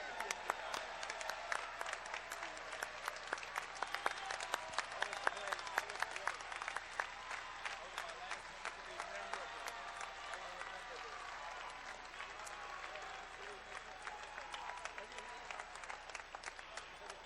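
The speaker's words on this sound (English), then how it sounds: "One more time, a round of applause for our judges and referees." A crowd in an arena applauds judges and referees at an awards presentation, steady dense clapping that holds throughout with a faint murmur underneath.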